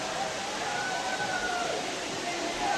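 Khoiyachara waterfall in full monsoon flow, at its third tier, roars as a dense, steady broadband rush of falling water, loud and unbroken throughout.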